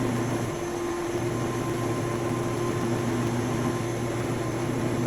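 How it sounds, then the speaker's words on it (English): Steady, loud whirring drone of a buffing machine polishing a Gibson Les Paul 25/50 guitar finish, with a vacuum cleaner running below it to catch dust, unbroken for the whole clip. "Make sure I've got a vacuum cleaner running below the buffer, picking up some of the dust"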